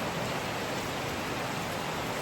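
Steady rain falling outdoors, a dense, even hiss that stays constant throughout with no breaks or voices.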